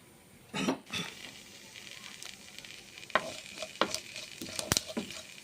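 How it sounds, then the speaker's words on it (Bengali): Cumin seeds fry in mustard oil in a wok with a soft, continuous sizzle, broken by several sharp scraping stirs of a utensil against the pan, heard close. "ভেজে নিচ্ছি জিরেগুলো নেড়ে চেড়ে"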